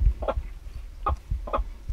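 A broody Whiting True Blue hen in a coop with baby chicks gives three low, soft clucks spaced about half a second apart, close by, with a faint low rumble underneath.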